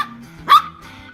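A Maltese dog gives a single sharp bark near the middle, close by and fairly loud, with quiet room sound around it.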